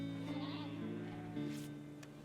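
A sheep in a video game bleats in one long wavering cry over a steady droning background hum, with no voices present.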